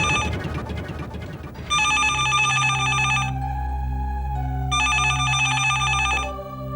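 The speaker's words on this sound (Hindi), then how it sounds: "सर, शर्मा का फोन है ब्रिटिश स्टेशन से" An old-style telephone bell rings in two long bursts separated by a short pause, loud and close, with a brief bit of other sound at the start and no talking.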